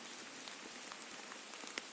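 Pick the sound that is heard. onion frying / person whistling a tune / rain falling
rain falling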